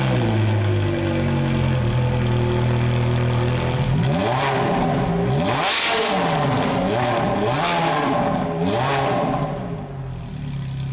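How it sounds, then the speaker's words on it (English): A Ferrari F430 engine with aftermarket exhaust idles, then revs loudly several times in quick bursts, roaring up and dropping back between each blip before settling. "Take a listen to a couple of revs."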